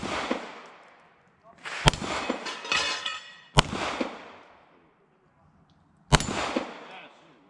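Shotgun blasts at a clay target at a fish and game range, three loud sharp reports spaced a couple of seconds apart, each ringing out with echo, with people talking between shots.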